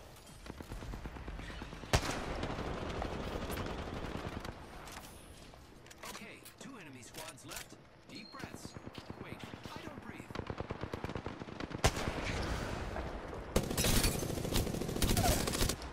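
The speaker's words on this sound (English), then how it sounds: "I am taking fire." Rapid bursts of video game gunfire rattle on and off, fairly close and loud, with a few sharper single shots mixed in and a voice talking over the shooting.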